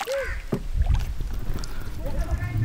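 A wooden boat moves on river water near the Bangladesh border, with close sloshing and paddle splashes under steady wind noise while people talk nearby.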